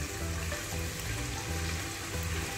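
Chicken pieces for butter chicken fry in oil with a dense, steady sizzle and crackle that stays fairly close and unbroken throughout, with no voices.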